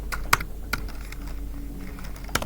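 Keys clack on a computer keyboard, a few sharp isolated presses over a low steady hum, close and clear with no voices.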